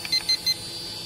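A Magic Speed X52 drone's remote controller gives three short, evenly spaced high-pitched beeps in quick succession, close and clear with no talking.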